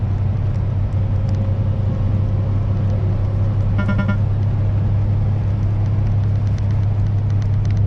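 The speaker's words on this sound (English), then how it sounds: "There's the sign for 70, and we are accelerating 60 miles an hour" A flatbed truck accelerating on a highway, heard from inside the cab as a loud, steady low engine drone with continuous road rumble and a short rattle partway through.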